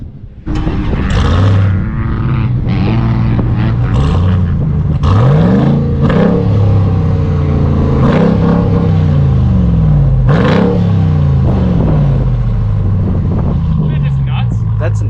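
A 2021 Ram TRX truck engine revs repeatedly at the Silver Lake sand dunes, rising in loud, close roaring surges that fall back to a rumble, with wind buffeting the microphone.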